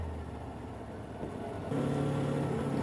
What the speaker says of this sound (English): here you can now hear the engine noise